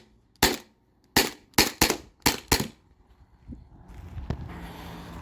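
A modified Sabre 68 launcher powered by a CO2 tank fires a magazine in six sharp, loud pops at an uneven, slightly stuttering pace, then gives way to a rising hiss and low rumbling.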